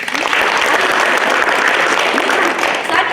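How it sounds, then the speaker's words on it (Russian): Participants at a speech masterclass clap for one another in loud, continuous applause that stays full and even from start to finish, with a few voices mixed in. "Давайте мы друг другу подарим аплодисменты."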